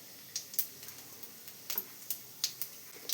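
Fennel seeds drop into hot oil with chana dal in a pan, giving a faint, sparse crackle of small pops and ticks scattered irregularly over a quiet background.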